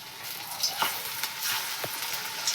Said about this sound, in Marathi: आपलं तेल तापले आता आपण इथं सोडून घेतोय